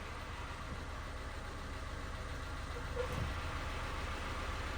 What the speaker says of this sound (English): So she has a rod knock